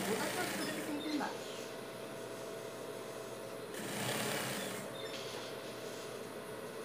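A sewing machine runs along the seam of a dog shirt, a soft continuous mechanical rattle and hum in short bursts, with someone speaking over it at moments.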